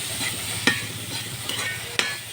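Onions frying in coconut oil in a pan, with a steady soft sizzle and a few sharp scraping stir clicks at irregular moments, close by with no talking.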